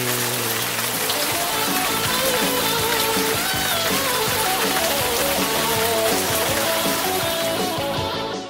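Rain falls steadily in Mexico City on an overcast evening, a dense continuous patter on surfaces that stays even throughout and fades slightly at the very end.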